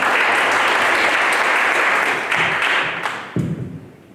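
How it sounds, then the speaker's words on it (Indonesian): Applause at a seminar on marriage agreements and Christian weddings: a loud, dense crowd clapping that holds steady, then thins and fades out near the end. "Berikan tepuk tangan untuk Pak Yusuf"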